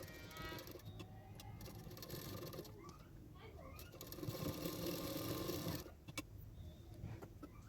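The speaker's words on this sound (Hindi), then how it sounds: "लेस लगाने के बाद और एक सिलाई कर रही हूँ किनारे किनारे पे।" Sewing machine stitching lace along the neckline edge of a boat neck princess cut blouse, a quiet rapid mechanical whirr with ticking, running steadily under low room noise.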